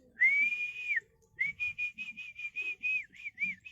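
A person whistling close by, first one long held note, then a quick run of short repeated notes in a lilting rhythm, clear and alone.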